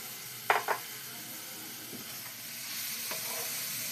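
Grated carrots for carrot payesh sizzle steadily in a pan, opening with two quick metallic scrapes and later a soft clink as the frying hiss grows slightly brighter.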